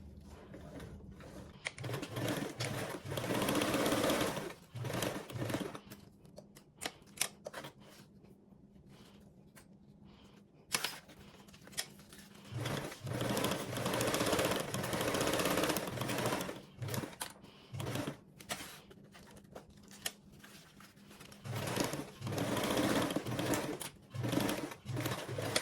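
Sewing machine stitching around a lining with a 1-inch seam allowance, running in long bursts of rapid whirring with a couple of short pauses and a clear stop midway.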